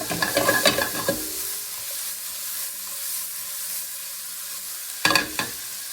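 Mushrooms for bœuf bourguignon fry in a pan with a constant bright sizzle, stirred with scraping clatters at the start and again near the end; nobody speaks.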